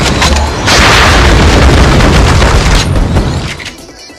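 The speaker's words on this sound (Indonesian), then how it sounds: "sekali ngaktifin special skill-nya, dia bakal nembakin 8 rudal sekaligus" Missile barrage from a special skill in the game Blue Archive, a loud sustained rumble of rapid overlapping booms and blasts lasting a few seconds before fading out.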